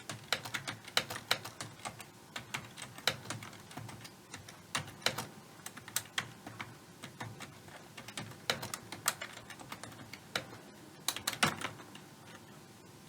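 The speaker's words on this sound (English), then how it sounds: "we have to type this exactly" Rapid, steady keystrokes on a computer keyboard while entering a configuration in a networking exercise, close and crisp with bursts of clicks and brief pauses, no talking.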